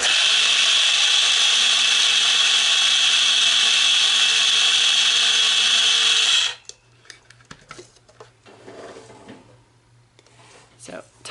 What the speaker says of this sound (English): now I'm just putting it in my little coffee grinder and grinding it up